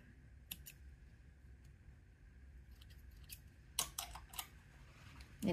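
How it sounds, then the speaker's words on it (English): Scissors snip a loose thread while hemming a handkerchief with a rolled hem foot: a short click near the start, then a quick cluster of sharp, close snips, quiet and with no talking. "Let's trim off that thread."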